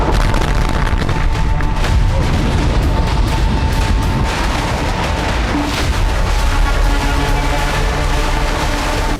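Missile explosions from an Iranian strike on Israel, dense and loud, with repeated booms and sharp cracks piling over a continuous roar, nearly unbroken for the whole stretch.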